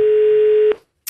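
A single steady telephone ring tone over a line during a radio prank call, held for most of a second then cut off, followed by a brief click of line noise.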